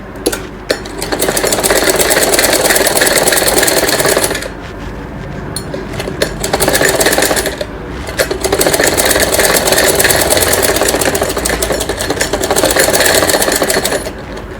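Sewing machine running in long continuous bursts as it double-stitches the shoulder seams of a child's night suit, steady mechanical whirr with brief pauses between passes.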